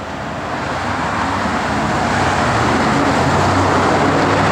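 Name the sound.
old noisy truck driving past on road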